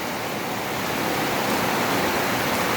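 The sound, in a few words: sudden heavy rain downpour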